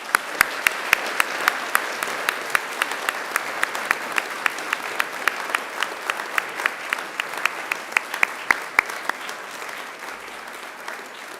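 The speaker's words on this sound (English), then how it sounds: "please join me in giving them an almighty round of applause" Sustained applause from a large crowd at a university graduation ceremony, steady dense clapping that holds for several seconds and tapers slightly toward the end.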